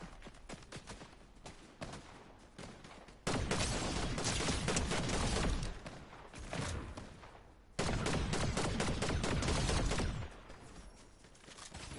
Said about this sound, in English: We hear some gunshots over here, chat.